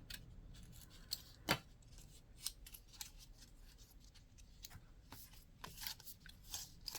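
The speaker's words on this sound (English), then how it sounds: "I'm going to try and open it without tearing my box." Quiet, close crinkling, snipping and rustling as a small box of pen gems is carefully opened, with one sharper snap partway through and no talking.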